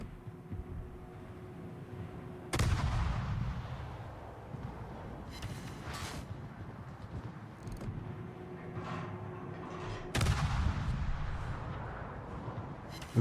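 Warship main gun salvos in World of Warships: two heavy, booming broadband blasts with long rumbling tails, one near the start and one later, over a continuous low engine and sea rumble.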